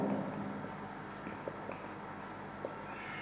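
A pen writes a math calculation on paper, faint scratchy strokes with a few soft taps, quiet and close against a low room hum.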